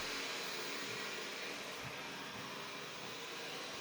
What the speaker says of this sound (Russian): Мы спрятались от пылесоса.